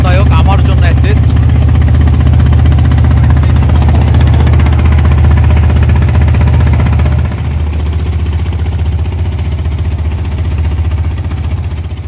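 A trawler engine on the Padma river throbs with a loud, steady, close low drone and heavy vibration, with voices mixed in.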